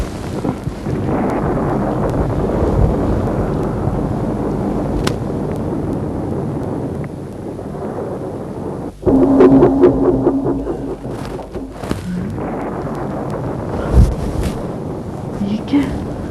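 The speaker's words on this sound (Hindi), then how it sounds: "वहाँ बहुत जोर की आंधी है।" A strong windstorm roars loud and steady through a stormy night, with a sudden heavier gust or thunder-like burst partway through and rumbling continuing after.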